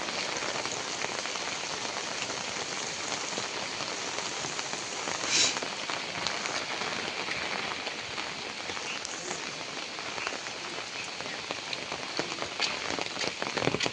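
First monsoon rain pours in a Konkan village, a constant close hiss of drops striking surfaces, with no voices and no break across the whole stretch.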